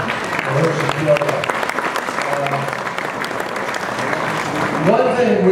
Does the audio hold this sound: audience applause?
yes